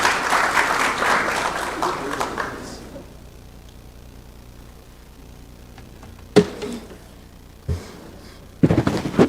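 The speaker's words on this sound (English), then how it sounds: "Kindly give them a round of applause." Audience applause after a welcome address at a conference on digital infrastructure in Africa, dense clapping for a few seconds that quickly thins out, followed by a quiet room and a couple of sharp knocks.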